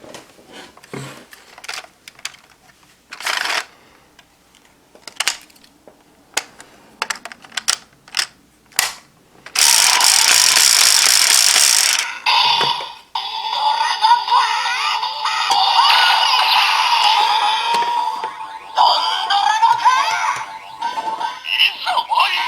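A DX Tiger Dora transformation toy from Avataro Sentai DonBrothers plays its electronic sound set: a run of short clicks and button presses, then a loud burst of noisy effects followed by a long stretch of chiming, musical toy sounds.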